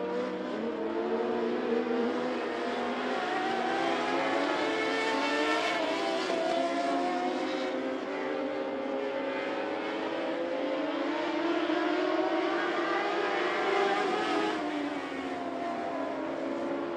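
Modified Mod Lite race cars roar around I-75 Raceway in a steady, continuous engine drone that rises and falls slightly as the pack circles, loud and unbroken with no voices.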